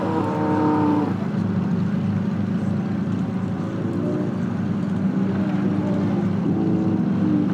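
A powerful turbocharged Ferrari sports car engine rumbles loudly and close by at Brands Hatch, holding a deep, steady growl that rises slightly in pitch for a moment.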